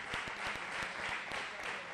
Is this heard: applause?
yes